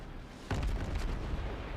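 A Shchors tank cannon firing at range in a video game: a single deep boom lands about halfway through, followed by a low rumbling tail over steady background noise.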